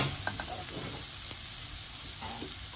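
Carrot with garlic and ginger frying in a pan for salted mackerel fried rice, a steady broadband sizzle with a few faint scrapes from stirring, continuous and close, no speech.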